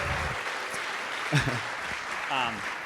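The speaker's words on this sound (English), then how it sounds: "can we get a round of applause for all of the hard work that went into this evening?" Wedding guests applauding at a reception in a manor house: a continuous wash of clapping from a crowd, moderately loud, with voices and a brief cheer rising through it.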